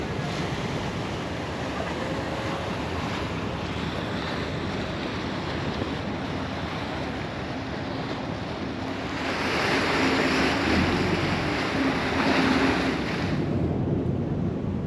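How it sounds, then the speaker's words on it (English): Aboard a Hamburg public transport ferry on the Elbe, continuous wind and water rush steadily at close range, swelling a little louder toward the end. "This ferry I'm stepping onto right now, it's not a tourist boat, it's not a cruise, it's public transport."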